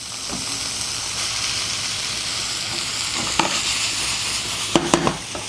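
Day-old quinoa goes into a vegetable stir fry in a hot pan, with a continuous loud sizzle and a few sharp utensil knocks and scrapes near the end.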